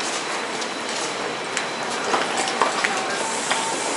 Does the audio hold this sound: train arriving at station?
yes